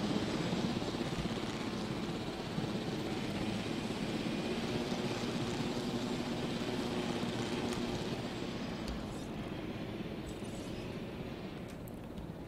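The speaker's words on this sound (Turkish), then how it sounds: "helikopteri de alayım ben" Helicopter taking off in the dinosaur park video game Jurassic World Evolution: a dense, loud, continuous rotor roar and whine holding steady for several seconds, then easing slightly, with no talk over it.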